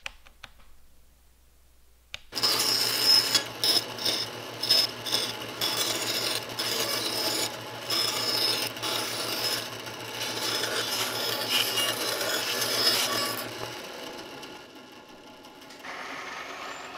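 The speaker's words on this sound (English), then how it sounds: "And to get that, I'm going to have to cut this out." Hand cutting on part of a camera arm mount for a rolling concrete camera rig, a steady rasping saw stroke that runs continuously for about eleven seconds before stopping, close and moderately loud.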